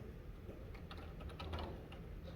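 Login credentials being typed on a computer keyboard, a quick run of light clicking keystrokes with a steady soft background hum and no talking.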